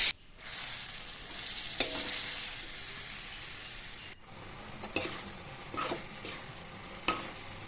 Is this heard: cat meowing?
no